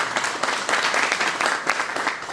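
An audience at a community event gives a round of applause, continuous crowded clapping with slight surges, sustained and fairly loud with no talking over it.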